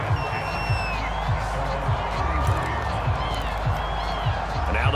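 A steady stadium crowd roar fills an American football game in Madden NFL 22, a broad continuous wash of cheering with a low rhythmic rumble underneath, no clear voices standing out.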